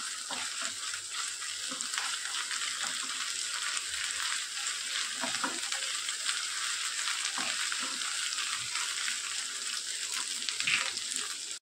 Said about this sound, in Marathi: कांदा फ्राय होतोय, त्यातच आलं लसणाची पेस्ट घालते, ही परतून घ्यायची